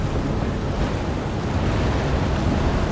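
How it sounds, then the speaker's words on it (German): Wind blows in the video game Shadow of the Tomb Raider as a steady, dense roar of rushing air with soft gusting swells, continuous and alone throughout. "Muss aber erstmal warten, bis der Wind aufhört"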